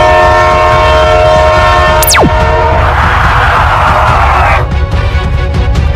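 A train horn blares loudly in a video game, over a steady roaring rumble of rail noise, with a sharp descending whistle-like sweep partway through.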